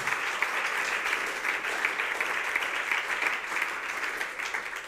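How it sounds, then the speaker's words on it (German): A church congregation claps for the Lord in sustained, even applause, a thick crowd of hands filling the room without pause, heard alone with no voices on top. "Give the Lord a hand clap"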